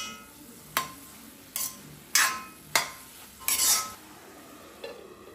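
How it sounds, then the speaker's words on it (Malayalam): A spoon stirring spinach stir-fry (cheera thoran) in a pan: six or so sharp scraping clacks against the metal come at irregular intervals, with quiet, faint sizzling between strokes. "ചീരത്തോരൻ്റെ ഇടയ്ക്ക് ഇളക്കി ഇളക്കി കൊടുക്കുന്നുണ്ട് കേട്ടോ, ഇല്ലെങ്കിൽ അടിയിൽ പിടിക്കും"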